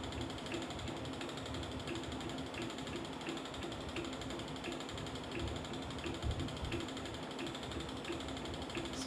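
A spinning wheel worked by a foot treadle while spinning an alpaca and angora blend yarn gives a steady mechanical whir with soft, regular creaks and clicks repeating at an even pace, moderately close and without speech.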